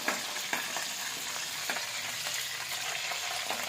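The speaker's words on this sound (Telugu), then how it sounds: "కరివేపాకు కొంచెం వేగనివ్వండి, వేగితే బాగుంటుంది" Curry leaves fry in hot oil for a chicken fry and pappu chaaru meal, a steady close sizzle with a few sharp crackles and pops and no voices.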